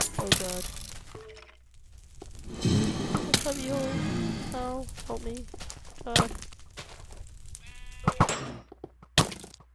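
Sheep in a video game bleat in several short, wavering cries scattered over ten seconds, mixed with clicks, thumps and other game noises while a player talks over them.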